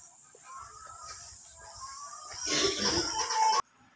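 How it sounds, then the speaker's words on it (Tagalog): Egg-laying hens cluck and murmur on a farm at night, soft scattered calls that swell into a louder, busier burst of clucking before cutting off abruptly. "Dito meron silang mga manok dito na nangingitlog."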